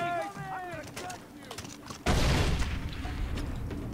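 Gunfire bursts out in a video game shooter: a sudden loud blast rolls into a rough, sustained rumble of shots after a stretch of quieter game sounds and a shouting voice.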